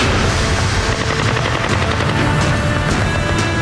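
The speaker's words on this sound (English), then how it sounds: "Randy Romalia and Kenny Thomas now have to run a gauntlet of enemy fire." Heavy enemy gunfire in a Black Hawk Down-style urban firefight: loud, dense, continuous bursts of automatic fire and overlapping shots with no break, close and harsh throughout.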